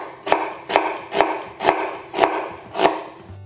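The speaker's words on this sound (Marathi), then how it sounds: "कांदो आमकां बारीक कातरूंक जाय." Onion is chopped finely on a cutting board, six evenly spaced sharp knife strikes in a steady rhythm, close and clear with nothing else heard.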